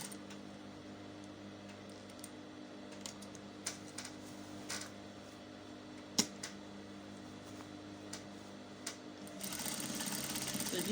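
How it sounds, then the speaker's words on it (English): A sewing machine stitching fabric for a wrap blouse, a quiet steady mechanical whir with small clicks and ticks, then a louder burst of rapid stitching near the end, heard alone in a still room. "Make sure you back stitch as you're sewing."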